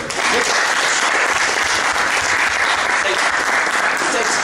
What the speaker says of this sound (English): I just want to give Joe another round of applause, please, for it